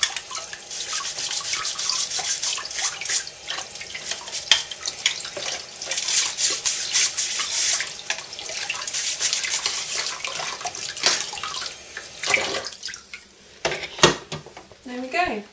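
Produce is scrubbed under a running kitchen tap for green juice, giving a continuous water rush with scattered clatters and knocks of dishes and utensils nearby.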